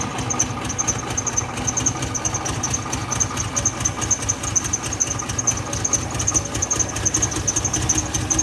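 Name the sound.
Ford F150 300 straight six engine trying to idle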